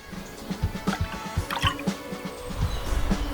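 Milk splashed into a cup of freshly pressed Aeropress coffee outdoors, with a burst of close, wet dripping and gurgling liquid sounds lasting a few seconds.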